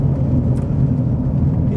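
A 2015 Ford Fusion, the Mk4 Mondeo, rolls along a gravel road, its engine and tyre rumble a steady, loud low drone heard from inside the cabin.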